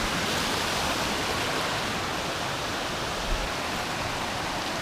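Steady, continuous roar of a waterfall in Shenandoah National Park, broad and unbroken rushing water close by, with no voices.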